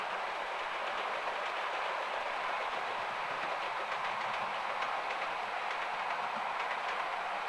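A model railway Midland Pullman train runs along its track, a faint steady rolling rumble with light clicking, continuous and without speech.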